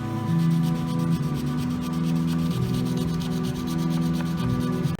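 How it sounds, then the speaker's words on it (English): A license plate gets its final wet sanding with 320–400 grit paper, a steady rhythmic rubbing scrape repeating in quick, close strokes, with no talking. "Now we're getting ready to do our final sanding."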